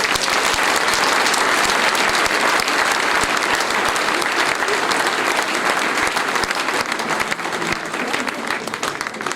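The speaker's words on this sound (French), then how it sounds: "Je vous demande d'applaudir Philippe Richet." Audience applause for Philippe Richet at a joint New Year's greetings ceremony in Mont-de-Marsan: dense, steady clapping from a large crowd, sustained and loud for about nine seconds.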